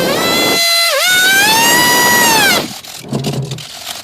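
A piercing electric motor whine runs at full power, dips briefly in pitch, then winds down, leaving faint rumbling and a short low voice.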